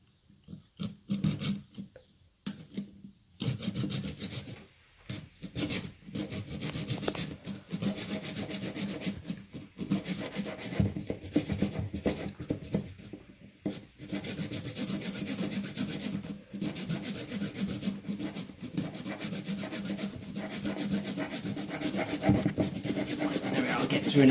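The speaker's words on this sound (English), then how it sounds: "I need to cut through these two. Just going to trim them off a bit." Rough rasping strokes of a blade cutting through and trimming toilet dual flush parts, irregular back-and-forth scraping with short pauses between bursts, close and moderately loud, growing steadier toward the end with no voices.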